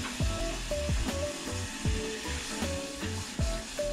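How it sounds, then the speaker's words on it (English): Coconut cream hits hot curry paste in a pan for a snapper dish, giving a steady close sizzle and frying hiss with a few clinking pan sounds and stirring scrapes throughout, no voices. "Next, we'll add our coconut cream."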